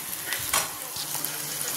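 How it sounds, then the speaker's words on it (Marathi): Chopped onion sizzles in a hot pan in a home kitchen, a steady bright crackle broken by a few scraping stirs, close and fairly loud, with no voices. "कांदा भाजतोय माझा."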